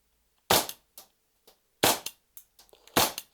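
Several sharp, dry CO2 pellet-pistol shots crack out at irregular intervals, each with a quick snap and brief decay, with faint clicks of handling between them.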